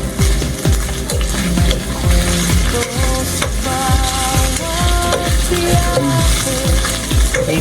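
Beefsteak sizzles loudly in a pan while a utensil stirs and scrapes in a steady rhythm over a continuous frying hiss.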